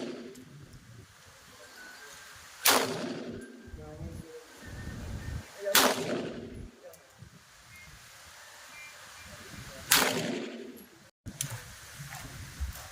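Gunshots fired in three single sharp cracks spaced several seconds apart, with faint voices and outdoor background between the shots.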